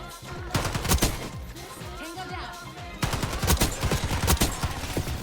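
Rapid automatic gunfire from an online shooter video game crackles in dense bursts with a brief lull in the middle, loud and close, while a voice talks over it.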